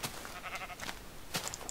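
Sheep bleating in the video game Minecraft, a few short bleats rising over steady game background noise.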